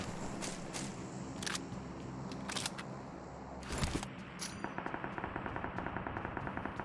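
Automatic weapon fire from the PUBG Mobile shooter game, with several loud bursts early on and then a rapid, evenly spaced run of shots near the end, over a steady game background.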